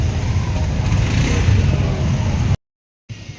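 A motorcycle engine runs close by with a low, steady drone and slight revving, then the sound cuts out abruptly into silence before briefly resuming at the end.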